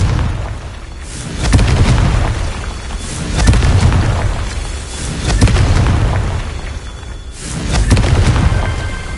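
Repeated booming fire-blast explosions from the Confringo spell in the Hogwarts Legacy video game, four loud bursts arriving in a steady rhythm with rumbling tails between them, no talking.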